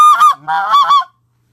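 A Triad Killer goose call blown in a short spec-call sequence, a loud close honk followed by lower and higher clucking notes, ending abruptly into silence.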